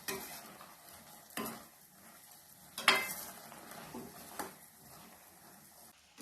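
A utensil scrapes and stirs bottle gourd kootu in a pan with a few clinks against the metal, over a faint steady sizzle.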